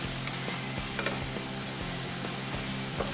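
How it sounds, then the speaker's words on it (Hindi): Onions frying in a pan for vegetable biryani, a steady loud sizzle with faint crackles and occasional soft stirring taps throughout, no voices. "हमारे प्याज का कलर थोड़ा चेंज हो चुका है और इसे 1-2 मिनट के लिए हम फ्राई कर लेंगे"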